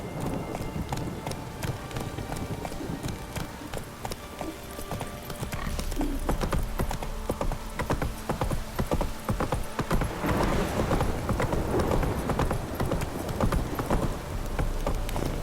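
Roach the horse gallops in The Witcher 3 video game, with fast, continuous hoofbeats that grow louder and denser partway through, over a busy game backdrop with faint rain-like noise.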